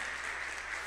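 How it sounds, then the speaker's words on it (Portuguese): Church congregation applauding during a sermon, a steady, moderately distant wash of clapping with no voices over it. "Você pode aplaudir a palavra do nosso Deus"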